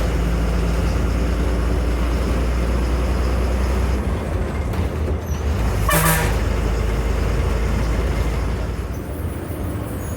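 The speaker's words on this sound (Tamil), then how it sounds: "கூடலூர்னு ஒரு வண்டி போட்டு வருது பாருங்கள்." A loud, close rumbling engine drone from a TNSTC bus ride between Gudalur and Thaloor, with a brief horn toot midway as a Gudalur bus goes past on the road.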